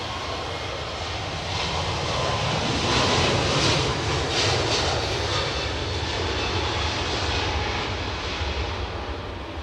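A long-range airliner fitted with extra fuel tanks at Heathrow Airport makes a loud, steady engine roar that swells slightly midway and holds without voices.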